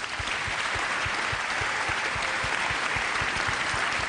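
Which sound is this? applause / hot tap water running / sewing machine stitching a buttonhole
applause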